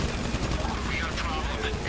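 Video game gunfire in GTA 5 rattles as a continuous, dense burst of muffled automatic shots under a player's talking.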